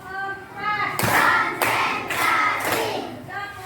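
Schoolchildren in a classroom clap in unison, four loud, evenly spaced group claps following a stretch of a teacher's voice.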